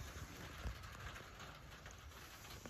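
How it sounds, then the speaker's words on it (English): Rain falls on a campsite during a thru-hike, a steady soft hiss of drops with an occasional brief thump, fairly close and continuous, with no voices. "There we go with some of that rain."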